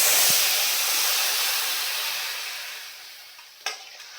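Boiled milk poured onto flattened rice roasted in ghee for aval payasam sizzles in a loud hiss that slowly fades, followed by a soft clink of a spoon stirring.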